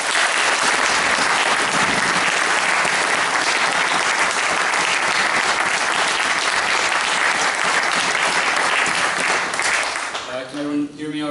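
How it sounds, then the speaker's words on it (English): A dinner audience at a Burns club claps steadily and loudly in welcome, dense applause filling the room, then thinning out near the end. "please put your hands together"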